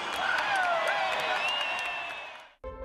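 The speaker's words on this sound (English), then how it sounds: "Another round of applause for our winners." A crowd at the ACT Brumbies rugby season launch applauds and cheers for the winners, a loud, dense wash of clapping with whoops that fades, then cuts off abruptly near the end.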